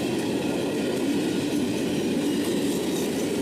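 A long train rolls past close by, a loud, steady rumble of railcars with faint rhythmic clickety-clack from the wheels, continuous throughout with no voices.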